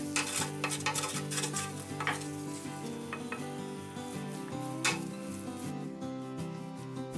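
Beef mince with dried thyme sizzles in a hot pan while a utensil stirs and scrapes it constantly, the frying hiss running quietly beneath steady background music.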